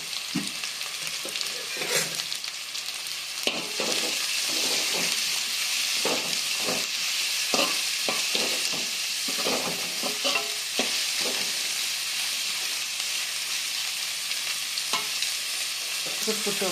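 Sliced onions and green chillies fry in a pan, a constant close hiss with frequent spoon stirs and scrapes scattered throughout, no voices.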